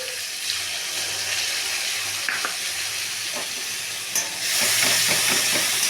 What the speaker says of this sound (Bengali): মশলাটাকে ভালো করে কষাতে হবে।